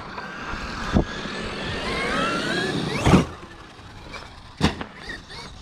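A stock Traxxas XRT RC truck runs at full throttle, its motor whine climbing and falling as it passes, with sharp thumps from bumps and landings over a steady background.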